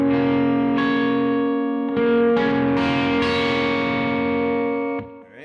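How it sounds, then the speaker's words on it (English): An electric guitar chord rings out with effects, struck a few times and left to sustain, bright and shimmering before fading. "So the first chord should sound something like this."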